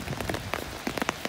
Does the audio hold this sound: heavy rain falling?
yes